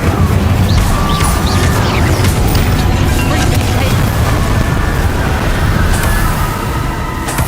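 Bombarda blasting spell in Hogwarts Legacy, a dense, loud continuous rumble of explosive noise filling the whole stretch without distinct separate blasts.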